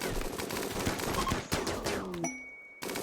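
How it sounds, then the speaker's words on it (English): Rapid gunfire in the colony game Rimworld rattles almost without pause as a dense, loud barrage of overlapping shots. It briefly drops out to a faint ringing tone before the shooting resumes. "Come on, keep shooting them."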